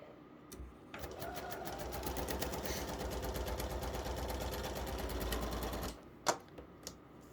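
A sewing machine stitches a seam through paper-pieced fabric: a steady, close, rapid mechanical chatter that runs for about five seconds, then stops, followed by a few sharp clicks and knocks.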